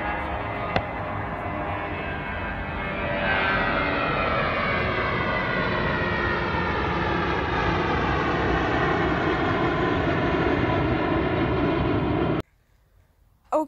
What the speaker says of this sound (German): ich steige jetzt in das Flugzeug ein, Leute.